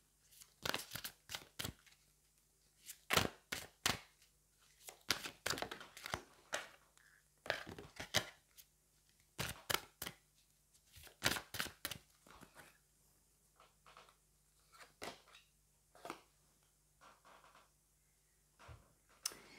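Angel oracle cards being shuffled and drawn by hand, a series of crisp, close riffling and snapping bursts separated by short pauses, fairly quiet and without talk.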